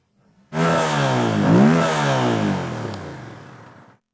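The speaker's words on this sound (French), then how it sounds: "Et le bruit de la nouvelle MT-07, hein? On écoute? Nouveau rugissement." Yamaha MT-07 motorcycle with a crossplane engine starts, then roars as it is revved, the pitch climbing and falling once before settling into a lower, fading growl; close and loud, with no talking over it.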